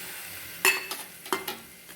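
Cluster beans (gavar pods) drop into spiced masala frying in a pan, giving a sudden burst of sizzle and a couple of stirring scrapes over a low steady crackle, with no talking.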